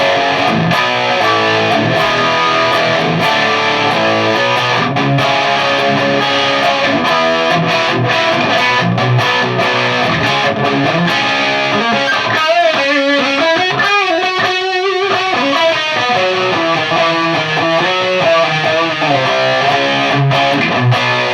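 Electric guitar played through a boosted Marshall Silver Jubilee amp, thick distorted chords and riffs ringing loud and continuously for about twenty seconds, with a brief stretch of sustained bending notes midway.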